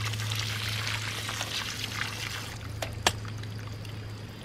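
Water pours steadily from a newly drilled well with a soft, trickling splash, a low hum beneath and a couple of faint clicks near the end.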